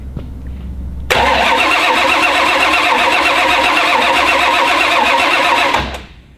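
A car nicknamed Red Lobster cranks briefly, then fires up into a loud, roaring engine that runs steadily for several seconds before cutting off abruptly, heard close up.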